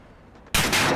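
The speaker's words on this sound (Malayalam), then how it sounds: "ഓ, അതാണ് ഗ്രനേഡ്." A grenade goes off in the Call of Duty Modern Warfare video game, a sudden loud blast halfway through that bursts from a quiet background into a sustained, booming roar.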